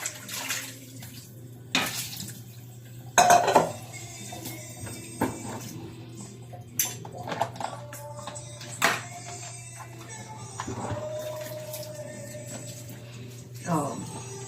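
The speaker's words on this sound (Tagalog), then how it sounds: "Hugasan natin yung mga dapat hugasan." Dishes, pots and cutlery are washed at a sink, with running water, clattering and clinking of pans and utensils in bursts, while music plays and a voice speaks in the background.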